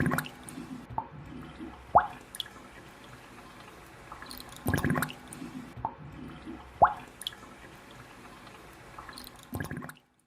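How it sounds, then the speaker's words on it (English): Porcelain clay slurry at a Jingdezhen workshop drips and trickles through a filter into a water pool, irregular wet plops and splashes over a soft continuous flow, close up with no voices. "the slurry is transferred to the water pool through a filter."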